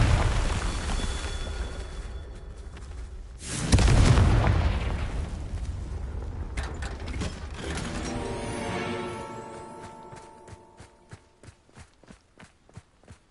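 A Confringo fire spell bursts in Hogwarts Legacy with a loud booming blast, followed by rumbling debris and a series of rhythmic, fading footstep-like thuds.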